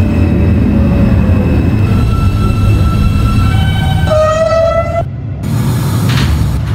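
An R160A Alstom subway train in Zoho One wrap runs as an F local in the OpenBVE simulator, with a steady loud rumbling roar and rising motor whine that drops away sharply near the end.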